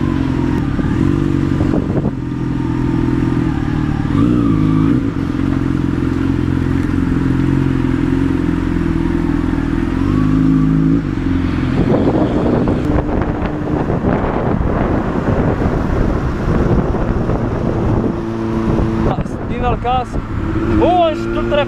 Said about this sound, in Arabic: نقدروا نزيدو ها هو يسخن الموتور